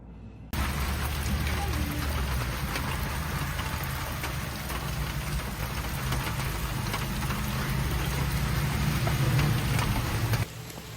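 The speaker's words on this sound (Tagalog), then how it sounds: "Po yung ulan since madaling araw" Steady rain pours down, a dense even hiss with scattered drips, continuing without pause for several seconds.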